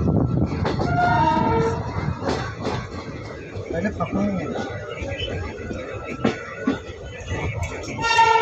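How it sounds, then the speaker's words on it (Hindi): Passenger train rolling through Phaphamau Junction near Prayagraj, a steady rumble and rattle of wheels on track with clanks and a horn-like tone, heard close under ongoing talk. "दोस्तों अब हमारी ट्रेन पहुंच चुकी है फाफामऊ जंक्शन, लेकिन ये अनऑफिशियल हॉल्ट है।"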